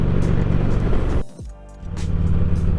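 Low rumbling road noise from a 2007 Harley-Davidson Ultra Classic Electra Glide touring motorcycle at highway speed, a steady loud drone that briefly drops out before returning.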